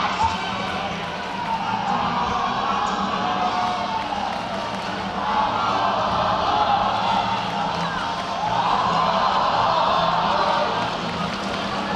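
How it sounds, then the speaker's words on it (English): Roller derby crowd in Oakland versus SF bout cheering steadily through the final jam, a broad, sustained roar of voices and whoops with swells of louder excitement, arena noise and faint announcer-like talk mixed underneath. "The cheering section woke up."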